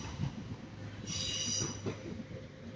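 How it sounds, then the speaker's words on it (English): British Rail Class 195 unit 195 102 moving through Manchester Piccadilly station on a service to Manchester Airport: a low rumble of rolling wheels with a sharp high squeal of wheels on rail partway through, and no voices heard. "That's 195 102, could do with a little bit of a clean. That's on a service to Manchester Airport."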